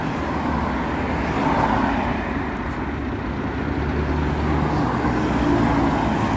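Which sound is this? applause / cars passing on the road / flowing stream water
cars passing on the road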